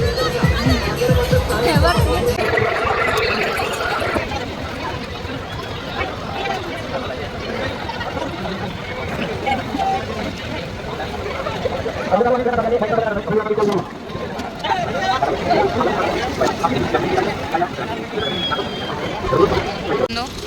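A dense, steady crowd murmur fills the grounds of the Kanheri village fair, a continuous babble of many voices with a person talking close by over it.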